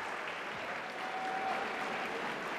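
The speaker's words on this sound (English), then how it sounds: "Can you do the clapping?" Students at a Prosper School District gathering applaud steadily for about three seconds, a dense even wash of clapping that holds its level throughout with no voices over it.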